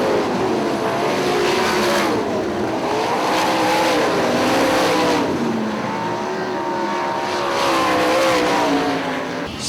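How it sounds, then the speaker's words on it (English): Sprint race cars roar around Hartford Speedway Park's track, engines rising and falling in pitch as a pack of cars passes close by, loud and continuous with overlapping motor notes. "here comes your winner of our Bailey Race Park B-Main, John Trudeau."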